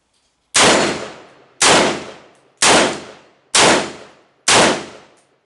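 Five loud, evenly spaced single shots from a Daniel Defense M4V7 AR-15 carbine, each sharp crack trailing off in a short decay before the next one, with silence in between.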